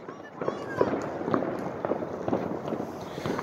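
Firecrackers go off in a run of scattered, moderate pops under people talking outdoors, set among a noisy background during a fireworks outing.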